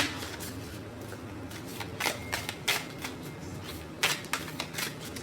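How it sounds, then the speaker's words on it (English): Tarot cards being shuffled by hand, close riffling and flicking bursts that repeat irregularly over a soft background hiss. "I'm gonna shuffle these cards right here."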